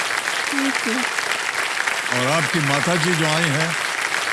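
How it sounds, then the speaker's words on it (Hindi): Studio audience applause on a TV quiz show, a steady dense clapping wash running the whole time beneath a voice speaking over it. "एक बार जोरदार तालियों के साथ आपका।"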